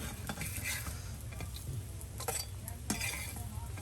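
Black gram lentil fritters fry in a pan with a quiet, continuous sizzle, while a spoon stirs and clinks against the metal several times at close range; no talking is heard.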